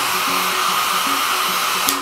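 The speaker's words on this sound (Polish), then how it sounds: "Wystarczy do tego na przykład suszarka." A hair dryer blows in a steady, loud rush to heat wax on a wooden board. It runs evenly throughout and is heard alone.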